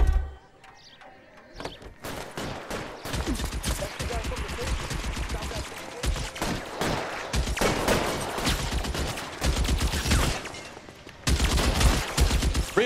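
Gunfire in the video game L.A. Noire, sustained rapid shots and bursts close and loud, with brief pauses and in-game voices mixed under the shooting.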